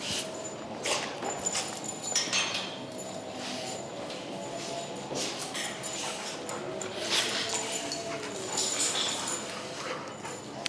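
Several dogs play together in a continuous scuffle of paws, footsteps and occasional whimpers and yips, close and busy throughout, with background noise underneath.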